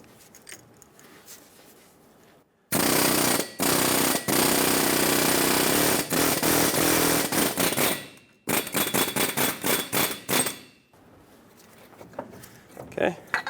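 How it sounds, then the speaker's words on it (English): A pneumatic air chisel hammering around the base of a rusted wheel bearing on a 2003-2009 Dodge Ram 2500, loud rapid rattling bursts separated by brief pauses, with quieter workshop moments before and after. "I'm going to use an air chisel and go around the base of this wheel bearing"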